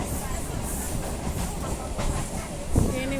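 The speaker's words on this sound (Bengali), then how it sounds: "আমি ট্রেনে উঠে পড়েছি।" Steady rumbling rattle of a moving train heard from inside a carriage, with continuous wheel-on-rail clatter and a low mechanical drone, a brief louder thump near the end, no clear talk.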